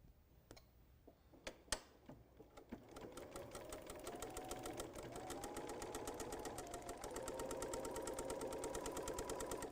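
A sewing machine stitches a Kimberbell quilting project, starting with a few isolated clicks and then settling into a fast, steady rhythmic whirring chatter that stays close and builds slightly louder.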